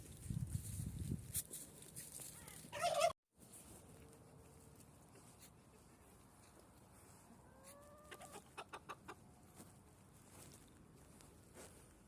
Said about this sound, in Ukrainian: А ще одна курочка в курникові боїться виходити.